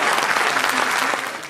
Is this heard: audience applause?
yes